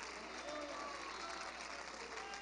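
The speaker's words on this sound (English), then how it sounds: "Somebody clap your hands to the Lord." Faint clapping from a church congregation during a worship service, a steady, distant patter with no clear individual claps.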